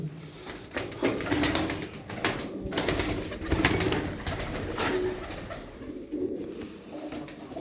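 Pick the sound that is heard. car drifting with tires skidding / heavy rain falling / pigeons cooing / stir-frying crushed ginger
pigeons cooing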